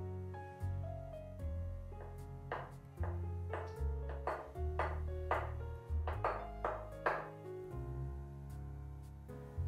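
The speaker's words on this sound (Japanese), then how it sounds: "白身は包丁でみじん切りにします。" A knife chops boiled egg whites rapidly on a cutting board, a run of crisp, evenly spaced taps close by, quieter at the start and end.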